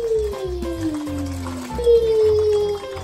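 Water is poured into a bottle for a homemade lava lamp, a short trickling gurgle whose tone slides steadily as the bottle fills, with faint voices close by.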